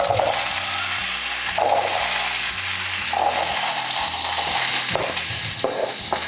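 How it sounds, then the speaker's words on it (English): Potatoes and onion fry in olive oil over medium heat, giving a loud, steady, close sizzle with occasional stirring scrapes throughout. "We've got some olive oil heated up on a medium heat, and we're just going to add in the potatoes and onion and cook them until the potatoes are brown"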